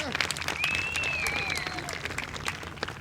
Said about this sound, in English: And a big round of applause for your number 1 qualifier, Emily McCarthy from Wisconsin.